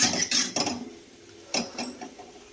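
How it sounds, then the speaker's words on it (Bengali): A knife chops a boiled egg into small pieces for a semolina upma: a series of quick clinking taps and scrapes against a plate or board, in two bursts separated by a short pause, close and moderately loud. "এটা একটা ঘরে সিদ্ধ ডিম ছিল, এটাকেও কেটে কেটে ছোটো করে কুচি কুচি করে দিয়ে দিচ্ছি।"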